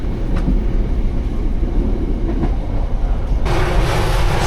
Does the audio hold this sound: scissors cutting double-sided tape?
no